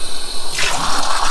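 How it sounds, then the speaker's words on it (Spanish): Water tipped out of small espresso cups while a Bialetti Brikka 2-cup moka pot brews, a short splashing gush starting halfway through, close and fairly loud. "Mientras que está saliendo, toman las tazas y botan el agua."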